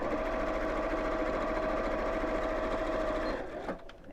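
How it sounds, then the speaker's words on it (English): A sewing machine stitches steadily across fabric with a close, continuous mechanical whir. It stops near the end and leaves a few faint clicks. "Just sew across these."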